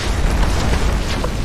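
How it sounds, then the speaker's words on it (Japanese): Explosion in the video game Final Fantasy VII Remake, a dense, continuous roaring rumble of blast noise heavy in the low end, loud and unbroken for its short length. "爆発が派手すぎねえか。"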